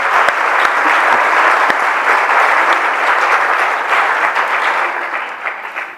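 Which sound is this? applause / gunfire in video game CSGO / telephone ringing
applause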